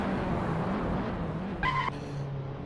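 USF2000 race cars circling the Road America track, heard as a steady distant engine drone with a brief sharp tyre-squeal whine rising above it midway.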